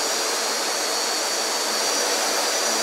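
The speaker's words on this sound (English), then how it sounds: "Because now all six motors, I believe, are now working equally." CarbonCore Y6 multirotor hovering in a garage, all six motors running together as a steady, loud, continuous high whine and rushing whir with no pauses.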